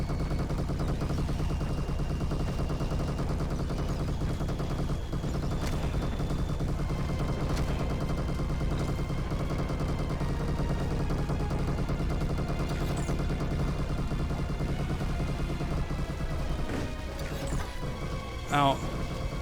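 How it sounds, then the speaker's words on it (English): Rapid enemy gunfire in a sci-fi shooter video game rattles on continuously in dense bursts under a busy game soundtrack, with a player talking over it throughout. "They're shooting so many bullets now."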